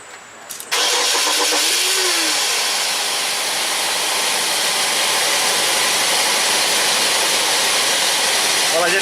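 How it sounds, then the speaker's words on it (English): A car engine is cranked and catches after a short quiet moment, then settles into a loud, steady running drone close by that continues to the end. "when I start the car and turn my AC on"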